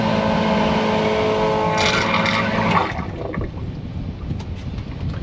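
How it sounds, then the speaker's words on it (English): A marine toilet flushed out with fresh water, a loud rushing, gurgling surge that drops off abruptly around the third second, leaving a quieter wash of pump and water noise. "Now I'm going to flush that completely out."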